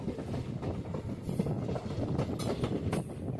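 A train arrives at Bellamkonda railway station on the Guntur–Bibinagar line, its wagons making a steady, close rumble with faint clatter throughout.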